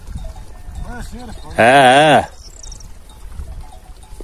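Goats and sheep out on a pasture bleat, with one loud, wavering cry standing out clearly among shorter calls, while someone speaks briefly nearby.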